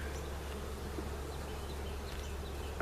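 Honey bees buzz steadily around an open hive during a spring brood box rotation, a continuous close insect drone with no talking.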